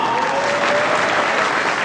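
A crowd claps and cheers steadily at a countdown as named participants are announced, a dense, continuous wash of applause with a faint tone running underneath.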